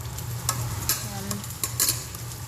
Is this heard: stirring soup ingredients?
yes